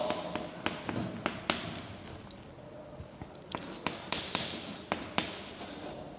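Pen or pencil writing code by hand on paper, with irregular sharp taps and scratchy strokes, close and fairly quiet, with no talking.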